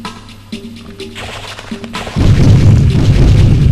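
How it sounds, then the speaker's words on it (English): Hand grenade blast in the retro video game Retro Core, preceded by synthesized tones, then a loud sustained explosion rumble that fills the second half. "When the elevator comes down, I'll throw a hand grenade on it."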